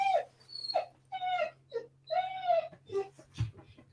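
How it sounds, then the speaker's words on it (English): A dog whimpers and whines in the background, with several drawn-out, rising and falling cries spread across a few seconds over a low steady hum. "So I apologize for the dog in the background."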